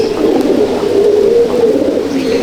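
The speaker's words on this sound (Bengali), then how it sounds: "এটা আন্ধ্রা পায়রা" A black Andhra pigeon coos continuously in a loft, a close, warm low purring call that swells and dips.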